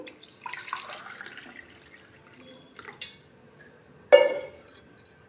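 Water pours briefly into a pot of rice with a soft splash, then a short louder gush follows a pause; fairly quiet, no talking.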